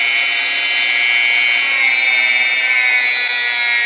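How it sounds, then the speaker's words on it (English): Harbor Freight rotary tool running alone, a loud, steady high-pitched whine with bright harmonic tones, constant in level throughout. "It's a rotary tool."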